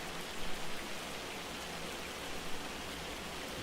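Steady hiss of rain and hail pouring down in Farming Simulator 25, a dense unbroken wash of falling drops with a couple of faint bumps and no voices.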